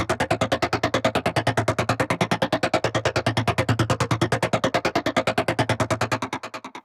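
An Omnisphere synth arpeggio emulating a Roland SH-101 plays through bass and high phasers as a fast, steady pulse of evenly spaced notes that fades out at the end.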